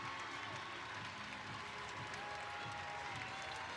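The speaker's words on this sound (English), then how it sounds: "And the crowd's saluting." An arena crowd at a UC Davis at UCLA college gymnastics meet applauds a routine's score with steady, sustained clapping that sounds somewhat distant and even throughout.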